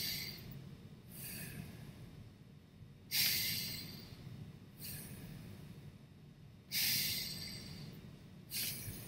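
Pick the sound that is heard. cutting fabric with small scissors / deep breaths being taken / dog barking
deep breaths being taken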